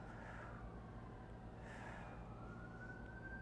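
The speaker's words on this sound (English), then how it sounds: "Ambulance going by" An ambulance siren passes at a distance, its faint wailing rising and falling above a low rumble of traffic and room noise, with no talk.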